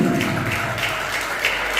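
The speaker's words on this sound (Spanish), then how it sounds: "den un fuerte aplauso a Jesucristo" A church congregation applauds, a steady dense wash of clapping that stays loud and even throughout the short moment.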